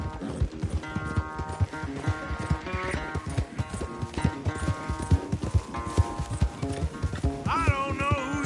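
Rhythmic hoofbeats of a galloping horse in Red Dead Redemption 2 drive steadily along, layered over a bright synthesized musical score with a rising tone near the end.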